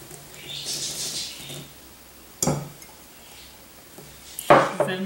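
A spoon stirs thickened syrup and marshmallows in a pot for maple sugar cream cones: soft scraping with two sharp metallic clanks against the pot, close and loud, no talk.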